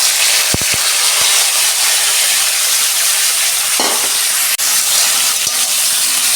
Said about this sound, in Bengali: সিমটা আমি ভাজবো, অল্প আমি তেল দিয়ে ভেজে নেব।